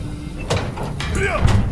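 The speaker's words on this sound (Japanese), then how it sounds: "ハッチを開けるぞ。" A hatch being opened in CoD: Vanguard, heard as a few sharp clunks and a short scraping slide close by, with a voice speaking briefly over it.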